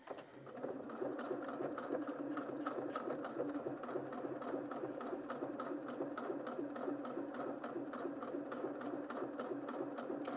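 A Janome M200QDC sewing machine stitches fabric at a steady, rapid pace, feeding the material through on its own. The mechanical whirr and clatter is continuous and close, with no talking over it.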